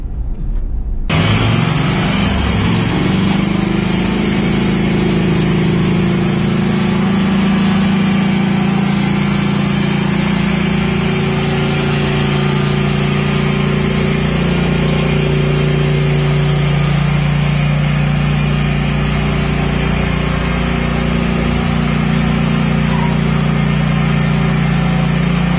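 Scag lawn mowers running at a shop, a steady loud engine drone that holds constant throughout with a slight wavering pitch and no talk over it.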